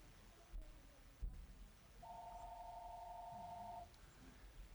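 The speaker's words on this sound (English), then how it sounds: "Phone ringing." A telephone rings on a radio sports talk show, heard as a single steady electronic ring tone of about two seconds over low studio background noise.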